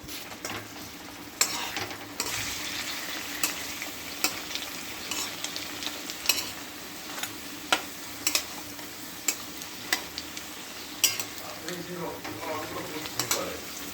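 Thinly sliced potato fritters fry in oil while being turned, a soft steady bubbling sizzle punctuated by repeated sharp spatula taps and clicks against the pan.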